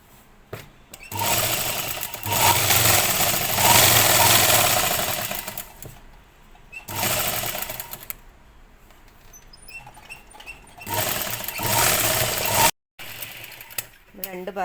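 An electric sewing machine sews the side seam of a petticoat. Long stretches of close, busy whirring alternate with short pauses, and the last bursts end abruptly.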